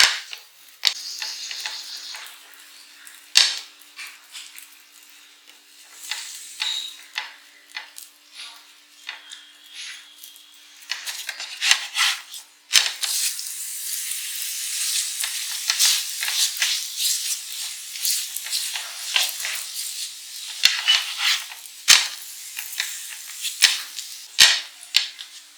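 Parotta cooking in an oily pan, with bursts of crackling, spitting sizzle and sharp pops, broken by quiet gaps and a few clattering knocks from handling.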